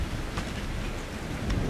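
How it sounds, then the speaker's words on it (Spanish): Rain of blood and thunder in the horror video game Outlast 2, a dense loud downpour with a continuous low thunder rumble throughout. "está lloviendo sangre"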